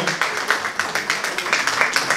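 Steady clapping from an audience cheering children modeling outfits at a fashion show, a continuous patter of many hands at moderate loudness with no talk over it.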